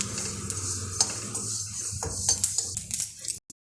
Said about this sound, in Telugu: ఇలా మీడియం ఫ్లేమ్లో పెట్టుకొని వేయించుకోవాలి.